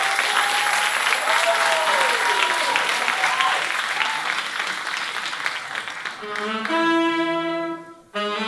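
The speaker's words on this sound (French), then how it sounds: "Un maximum d'applaudissements" Audience applauding at a European music event before a Polish song, a long sustained roar of clapping with a host's voice over the start, giving way to the opening notes of the music near the end.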